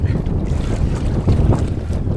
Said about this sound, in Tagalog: Mahangin pa mga amigo.